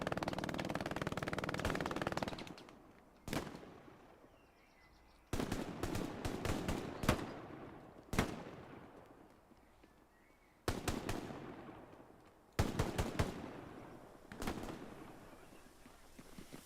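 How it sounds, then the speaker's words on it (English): MG42 machine gun fire in the World War II shooter Hell Let Loose, rapid bursts of sharp cracks repeating several times with echoing decay and quieter gaps between them. "Big Mag able to wipe him down with the MG42"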